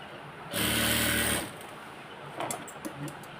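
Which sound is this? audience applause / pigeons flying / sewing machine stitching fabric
sewing machine stitching fabric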